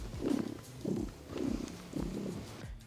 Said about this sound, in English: If I get close to him, you'll be able to hear him purr.